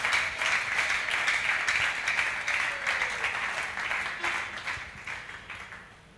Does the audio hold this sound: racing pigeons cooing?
no